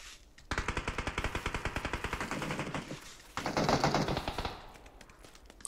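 Automatic gunfire in the battle royale game PUBG: a long rapid burst of loud, evenly spaced shots, a short pause, then a second dense burst, with no talking.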